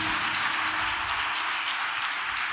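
A congregation claps loudly and steadily together at a church service, a dense, continuous wash of applause with no talking over it.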